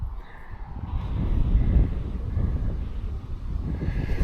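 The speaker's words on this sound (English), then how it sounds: "that's a healthy breeze" Steady breeze blowing over a lake around a boat held at anchor, a continuous low rushing wind noise buffeting the microphone, fairly loud and unbroken throughout.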